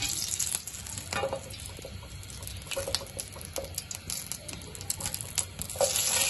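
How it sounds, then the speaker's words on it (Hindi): Cumin seeds frying in ghee for a tadka in a dal gosht recipe, a soft crackling sizzle with scattered spoon taps and stirring, fairly faint and steady, with no speech. "ये मैंने थोड़ा सा घी ले लिया और इसमें जीरा डाल देते हैं, तड़के के लिए"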